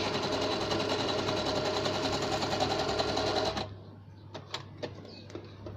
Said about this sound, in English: then I'll stitch that on, just in a little bunch